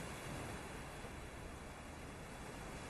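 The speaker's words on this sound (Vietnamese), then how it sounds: "Tiếng sóng biển. Anh đang ở bờ biển Đại Liên," Ocean surf at a Dalian beach comes through a phone line as a dense, unbroken wash of waves, fairly loud and filling the whole moment, with no voices.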